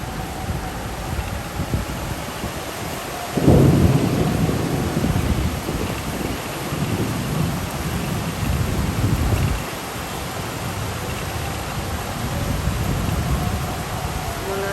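Heavy rain pours in a constant broadband roar, with gusty low rumbles swelling and fading beneath it.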